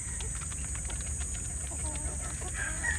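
Free-range chickens on a range, a mixed flock of young birds, cluck in short repeated bursts over steady background noise, close by, with no talking.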